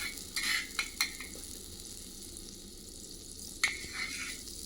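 Butter melting and heating in a pan for a bread omelette, a soft steady sizzle near the mic, broken by a few sharp clinks and scrapes of stirring.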